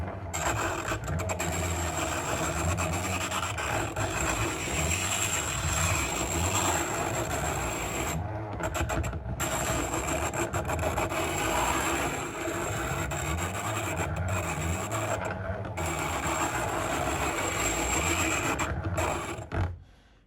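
A steady rasping grind of a drill bit against the wheel of a hand-cranked Peerless bench grinder, using the drill bit rest, continuous and close, with slight rhythmic pulsing from the hand cranking and brief pauses.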